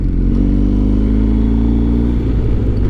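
A BMW GS motorcycle engine drones loudly and steadily while riding on a South African adventure trip in the rain, a close, continuous mid-pitched roar with no pauses.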